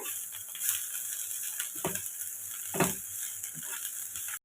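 Spices fry in a pan for vegetable pulao with a close, continuous sizzle, broken by several scraping, clicking stirs of a utensil against the pan.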